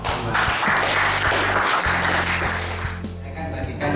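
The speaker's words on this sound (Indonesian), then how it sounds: "Tepuk tangan untuk kelompok 2." Classroom applause for a student group during a high school mathematics lesson, a dense moderate clapping that runs steadily throughout over a low constant hum.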